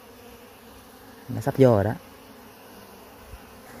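Bees from a wild colony nesting in an electric pole buzz in a short, close burst lasting about half a second, with a person speaking nearby.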